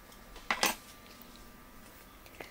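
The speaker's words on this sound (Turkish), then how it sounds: "Tavayı ocağa aldım ve ısıttım." A frying pan is set down on a stovetop before cooking beef kavurma with tail fat, giving two quick metallic clanks close together, fairly quiet, with no talk.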